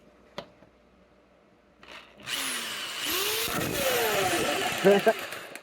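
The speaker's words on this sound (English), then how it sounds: "I'm going to drill myself another hole here" A power drill whirs loudly up close for about three seconds, its pitch shifting as it bites into material, after a couple of soft clicks.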